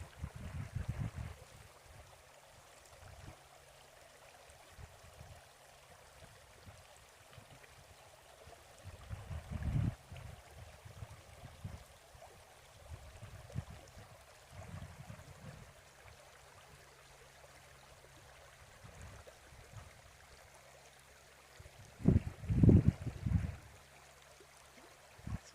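Creek water flows steadily and softly, a low wash that stays constant throughout, with a few brief louder rustles and splashes near the start and toward the end.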